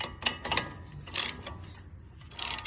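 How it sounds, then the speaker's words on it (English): A wrench tightens the 21 mm caliper bracket bolts on the front brakes of a 2014 Ford F-150, giving several short bursts of close ratcheting clicks with quiet gaps between them and no talking. "Just tightening those two bolts down again."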